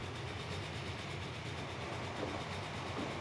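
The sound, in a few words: train passing in video game Transport Fever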